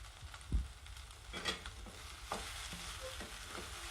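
Sweet potato puttu gets stirred in a pan, with a few distinct spoon scrapes and knocks against the metal over a faint low sizzle, quiet and close, with no one talking.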